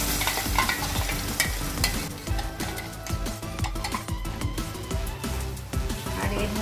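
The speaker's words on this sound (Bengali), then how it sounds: "তেলটা গরম হয়ে গেছে। এখন আমি ম্যারিনেট করা মিশ্রণটা এর মধ্যে" Marinated chicken mixture frying in hot white oil, a steady loud sizzle close by with frequent stirring scrapes and occasional clinks running throughout.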